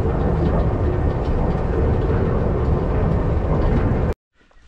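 Loud rumbling roar of a train in motion in Berlin, steady and close, then cutting off abruptly near the end into near silence.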